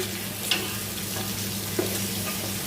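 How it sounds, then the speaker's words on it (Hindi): Meat and onions frying in a pot for Punjabi yakhni pulao, a steady soft sizzle with a couple of faint scraping stirs, close and without talk. "थोड़ा सा इसको भूनेंगे"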